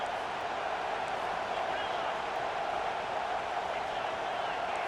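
A stadium crowd in College Football 25, a Michigan versus Penn State game, roars as a steady, loud, continuous wash of cheering during a big third down, with a commentator talking over it.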